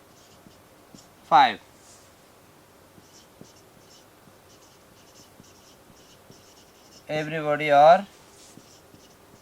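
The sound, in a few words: writing on a board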